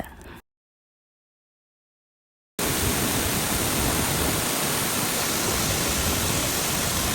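Broadband roar of Duwili Ella waterfall at Lankagama, Sri Lanka, a steady, loud rush of falling water heard up close after a short gap of near silence.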